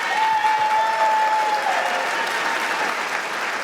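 Partial audience applause at a Lewis Black stand-up comedy show, steady mid-distance clapping from a crowd, sustained evenly throughout with a faint high whistle-like tone near the start.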